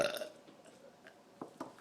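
A burp in a burping contest: one short, fairly loud belch opens the moment, followed by a couple of faint little throat bursts near the end, with no talking.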